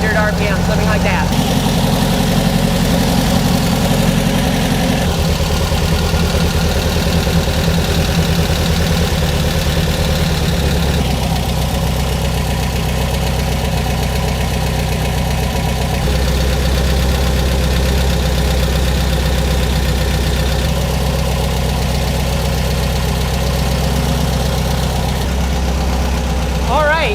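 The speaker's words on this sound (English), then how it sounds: "get that idle down to about 800-900 RPM" Close and loud, the engine of a Beck 550 Spyder replica idles steadily, a low rumbling burble, while its carburetors are adjusted to sync. The idle shifts slightly in pitch and tone every few seconds as the throttle is tweaked.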